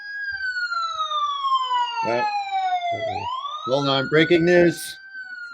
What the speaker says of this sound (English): Anybody hear those sirens?